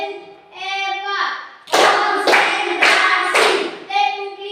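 Classroom children do a counted clap routine, with a few sharp bursts of clapping alternating with chanted replies from the teacher and pupils, all close and loud.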